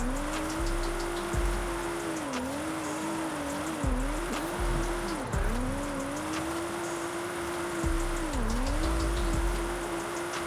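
Nissan GT-R R35 in Forza Horizon 5 driving steadily at close range, its engine drone rising and falling with repeated gear shifts and throttle changes, alongside a hissy background, no talk.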